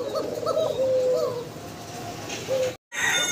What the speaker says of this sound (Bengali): প্রচণ্ড ডাকাডাই করা একটা পেয়ার